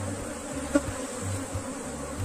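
A swarm of honey bees buzzes steadily at close range, a continuous low drone with a faint pulsing quality and a small click partway through, heard without talk.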